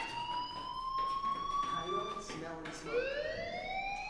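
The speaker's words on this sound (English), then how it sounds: "do you hear that fire alarm?" A fire alarm rings in the video game Life Is Strange, a steady electronic tone with rising and falling pitch sweeps that continues throughout, with faint speech in the background.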